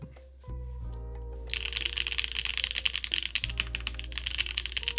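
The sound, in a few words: ikki68 keyboard with FLCMMK Ice Mint linear switches typing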